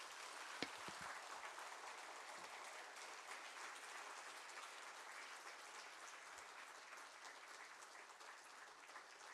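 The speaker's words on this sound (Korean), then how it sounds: "다른 때보다도 더 뜨거운 박수로 맞이해주시면 감사하겠습니다" A church congregation at a Friday worship service applauds to welcome a missionary who has come from Mexico. Steady, continuous clapping is heard from a distance, faint but unbroken throughout, with a few sharper claps near the start.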